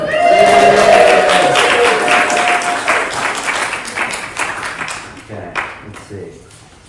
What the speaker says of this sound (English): You can give me a big round of applause while I get this ready.